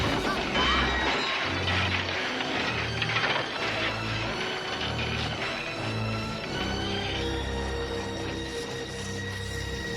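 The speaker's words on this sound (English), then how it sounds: "She just starts smacking him with a crowbar" A crowbar repeatedly strikes a person in a film fight scene, producing a run of sharp metallic crashes and thuds over a steady, throbbing film score.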